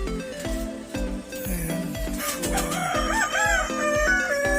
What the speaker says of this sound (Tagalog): nagtutunugan na ang mga manok